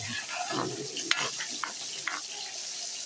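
Soft, steady sizzling with a few light clinks and stirring sounds as fish for paksiw is placed into a hot frying pan; fairly quiet and close.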